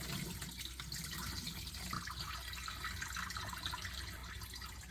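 Water pours and drains steadily into a kitchen sink as strained broccoli sprouts sit in a jar with a straining lid, a continuous close rush of liquid with no pauses.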